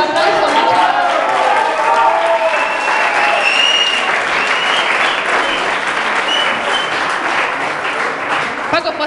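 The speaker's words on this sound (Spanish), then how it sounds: "nos va a tocar los tanguitos. Un aplauso." Loud, sustained applause and cheering from a crowd at a tango milonga night as a guitarist is introduced, a steady roar of clapping with voices calling out within it.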